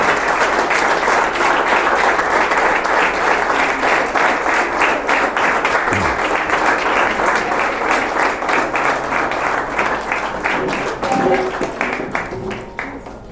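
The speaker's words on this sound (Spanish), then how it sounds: "le damos un fuerte aplauso a la entrada de Adasa Michelle Ordóñez Olvera" Sustained, dense applause from a seated congregation greeting a quinceañera's entrance down the central aisle, steady and full for the length of the clip, tapering slightly at the close.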